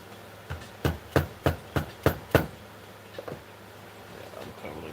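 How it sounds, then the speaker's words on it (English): Six evenly spaced hammer blows thud sharply on leather, followed by a couple of lighter taps, close up with no talking. "Watch when I'm hitting it with my hammer so I don't mess it up again."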